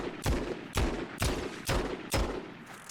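Pistol fire in Fortnite Zero Build, five sharp, loud shots at an even pace of about one every half second, each with a short ringing tail, with no voices.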